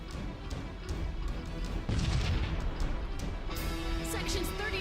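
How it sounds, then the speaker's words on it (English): A missile salvo in the space combat game Sunrider: Mask of Arcadius, a series of thumping launches and crashing impacts that swell into a dense rumble, with a voice talking over the barrage. "She's got even more missiles."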